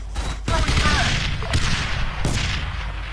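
A grenade detonates in ARMA III during a night operation, one sharp loud blast followed by scattered gunfire bursts and another crack, with a muffled battlefield rumble underneath.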